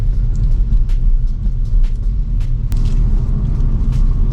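A Kia Stinger GT drives along, giving a loud, steady low engine and exhaust rumble from inside the car. The exhaust note stays fairly subdued, with faint road noise on top.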